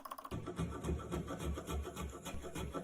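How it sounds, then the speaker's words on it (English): A spokeshave shaves the back and handle of a stave-carved oak spoon held in a vise, giving close, rhythmic rasping strokes in quick succession without talk. "I now work on shaping the back and the handle using spoke shaves."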